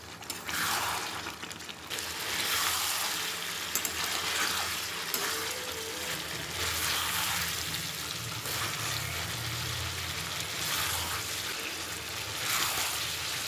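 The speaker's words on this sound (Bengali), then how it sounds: "এখন গ্যাসের তাপ বাড়িয়ে মাংসগুলোকে আমি কষিয়ে নেব ভালো করে।" Mutton pieces being sautéed over raised heat in a pan for curry, a steady hissing sizzle with gushing, watery bursts rising and falling, fairly quiet and with no voices.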